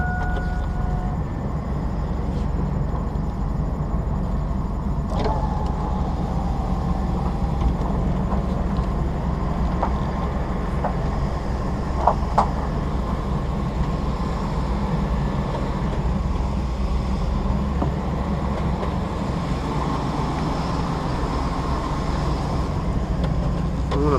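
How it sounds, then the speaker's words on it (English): A van engine idles steadily after starting up, a continuous low rumble heard close for the whole stretch, with a few faint clicks and knocks over the top and no talking. "The van runs really, really good."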